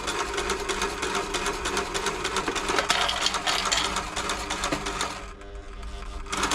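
A dry, stiff New Home L 312 sewing machine runs slowly with a clunky, labouring motor, its rapid mechanical clatter continuous and close before easing off near the end.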